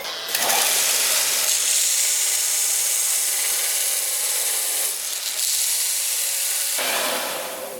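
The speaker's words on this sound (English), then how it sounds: "I'm going to go ahead and use this 50 grit, and I got a very level platen" A belt grinder runs a 50 grit belt over a level platen, rough-shaping a sword guard. The abrasive hiss is loud and steady, with a few short pauses and changes in pressure as the workpiece is lifted and pressed back onto the belt.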